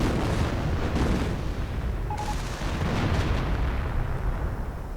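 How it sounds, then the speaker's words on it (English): Artillery barrages and explosions rumble in a WWII strategy game battle, a dense, loud, continuous wash of booms and blasts with no clear gaps. "the stormtroopers were absolutely annihilated by artillery"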